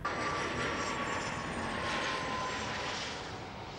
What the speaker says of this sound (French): dans un lieu alors paisible et qui aujourd'hui vrombrit à chaque instant au décollage des avions